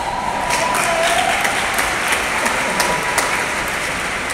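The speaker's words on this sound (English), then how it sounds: "Now you clap" Dense audience clapping fills a church talk, a steady wash of many hands that holds at an even level from start to finish with no voices over it.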